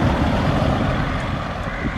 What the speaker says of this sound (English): You might be able to make the sounds out in the background of the traffic on the A65.